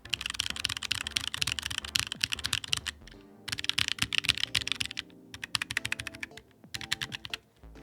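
Typing on a Corne split mechanical keyboard in its old case: dense bursts of close, clacky keystrokes in fast rhythm, with brief pauses near three and five seconds and no talking.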